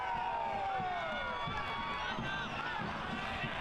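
A soccer stadium crowd at a USL match between Hartford Athletic and Indy Eleven roars continuously, a dense wash of voices and whistles that dips slightly as a chance fizzles.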